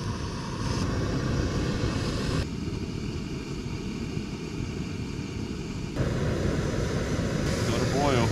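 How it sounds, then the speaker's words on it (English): A broad, steady roar of jet engines passes over a rainy campsite in Kahurangi, New Zealand, rushing and continuous, with faint shifts in tone and no clear talking. "Jet engines."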